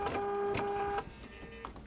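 A sewing machine stitching quilt fabric whirs with a steady motor hum for about a second, then stops, leaving quieter handling noise and a faint click.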